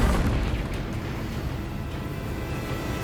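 A Confringo fire blast spell erupts in the video game Hogwarts Legacy with a loud, rumbling explosion that fills the whole clip and slowly tails off.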